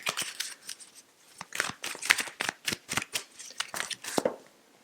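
Tarot cards are drawn and handled one after another from the deck, producing a quick series of crisp papery snaps and flicks in an irregular rhythm, close and fairly quiet.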